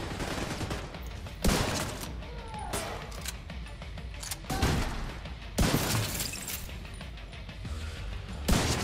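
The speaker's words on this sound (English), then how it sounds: "What am I shooting at?" Gunfire in the video game The Division 2, repeated sharp bursts of shots and crashes over a dense, noisy game soundscape, fairly loud and irregular.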